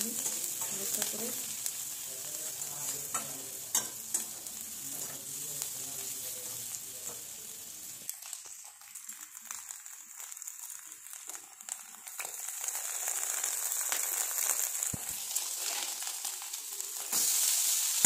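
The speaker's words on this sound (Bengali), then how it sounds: "এখানে ডিমটা নিয়ে নিচ্ছি, একটু ভেজে নিই হালকা করে।" An egg frying lightly in a pan while making egg Maggi noodles, giving a continuous close sizzle that thins out partway through and then swells again, with a few stirring clicks.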